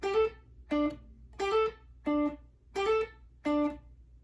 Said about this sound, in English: Every time you do that hammer on and palm mute, you're going to pick that note